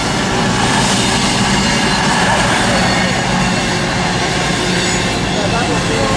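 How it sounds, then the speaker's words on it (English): A Class 221 Virgin Voyager diesel train rolls slowly through Stafford station on the West Coast Main Line, giving a steady, loud, broadband rumble that holds evenly throughout with no break. "And now passing through there slowly, we've got a 221 Virgin Voyager."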